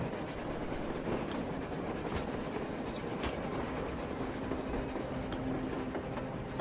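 A train rumbling along the surface in Metro Exodus, with a steady rolling clatter of wheels on rails and a few sharp clicks, heard alone at moderate distance.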